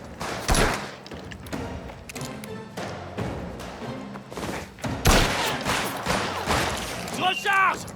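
Gunshots ring out in a Mafia video game, sharp cracks and thuds scattered through the stretch with a dense burst near the end, while a person talks over them.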